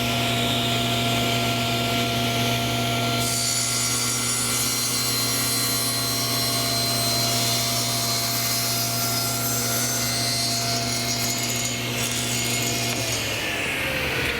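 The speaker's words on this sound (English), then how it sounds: "What we're gonna do is a bevel cut. I'm not gonna line up, I'm just gonna cut it." A table saw runs steadily at close range as it makes a bevel cut through wood, its motor whine holding level throughout before shifting and tapering off near the end.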